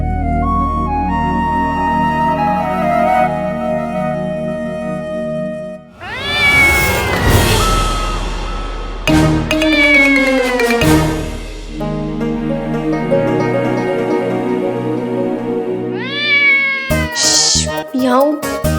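A cat's meowing is mixed with music and a voice, with several drawn-out meows and cries standing out loudly near the middle and end of a busy scene.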